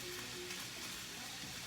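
Chicken stir fry sizzling in a home skillet, a steady, dense crackle held at an even level throughout, with no speech.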